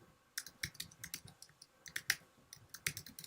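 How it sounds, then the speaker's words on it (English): Keys on a computer keyboard clack in quick, irregular bursts of crisp clicks, close and fairly quiet, with no talking over them. "I am typing it."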